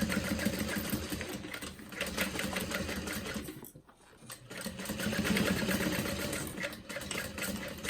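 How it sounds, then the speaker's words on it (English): A sewing machine stitches a snap tab on a Swoon Charlotte City Tote, running in a fast, steady mechanical whir of rapid needle strokes, pausing briefly midway for the back stitches, then resuming close and loud. "Snap tab again, just adding a few little back stitches."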